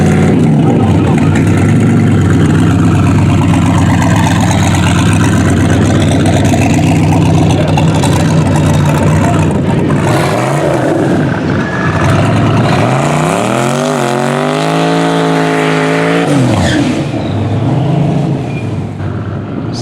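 A bare-chassis C4 Corvette with a 5.4-liter turbo engine races at full throttle, loud and close, its engine note climbing and falling through hard revving and gear changes while a voice talks over it.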